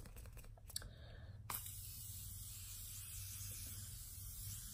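Morphe makeup setting spray misted onto a face: a soft, steady hiss of fine mist that starts sharply and continues evenly for several seconds, close and fairly quiet, with no talking.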